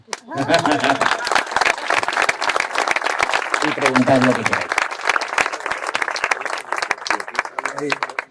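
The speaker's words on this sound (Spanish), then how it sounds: "Ahora sí podéis aplaudir." An audience at an informal Málaga bar talk bursts into sustained clapping for several seconds, lively and close, while someone talks over it in Spanish intermittently.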